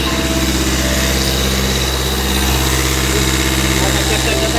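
Engine of a Nissan car running at about 2000 RPM during a cooling system coolant bleed, with a steady, loud, continuous drone and a voice talking over it.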